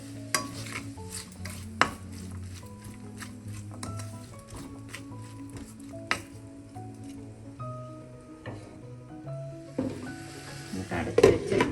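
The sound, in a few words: sautéing chicken liver with salt in a pan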